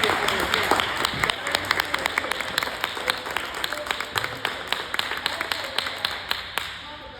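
Audience applause at a clergy affairs meeting with a Newark councilwoman, a steady patter of many hands clapping at moderate distance that carries on for several seconds.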